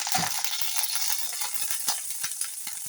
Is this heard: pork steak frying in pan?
yes